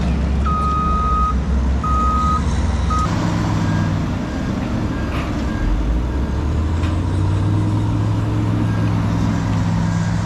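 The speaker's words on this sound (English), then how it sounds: "we got a piggyback 30-yard truck coming in" Piggyback 30-yard truck arriving at a flooded landfill, loud diesel engine rumble close by with several repeated reversing beeps early on, then the engine note shifting as it moves.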